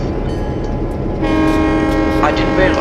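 A Union Pacific train hauled by EMD F7 locomotives rumbles steadily and loudly. The broadband roar swells after about a second as a brighter tonal hum joins in, and the note shifts slightly near the end.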